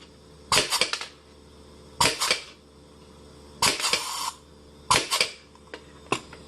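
A PMC150 cutter worked with an upgrade pedal gives sharp, close mechanical clacks in five separate bursts, each roughly a second apart, with quiet gaps between them.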